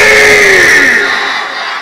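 A large crowd at a Bangladeshi religious mahfil roars a loud, sustained collective shout of the takbir, many voices merging into one swelling chant that slowly fades.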